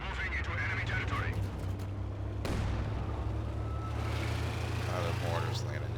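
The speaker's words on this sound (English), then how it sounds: "The mortars landing there, big deal." Mortar shells landing in Company of Heroes 2 during a World War II battle, with a sharp blast midway over constant low engine rumble and battlefield noise, with a voice talking throughout.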